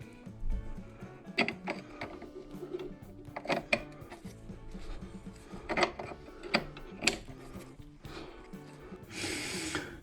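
A spanner works a 9/16 nut on a Triumph TR7 fuel tank, giving sharp metallic clicks and ratcheting scrapes at irregular intervals, close and fairly quiet, with no talking.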